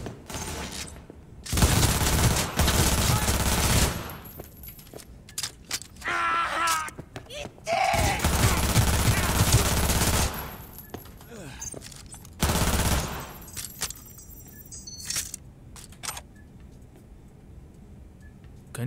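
Several bursts of automatic gunfire in the video game Cyberpunk 2077, set in a slum firefight, sometimes stretched out and sometimes quick and clipped, loud and close, with quieter gaps and occasional talk between volleys.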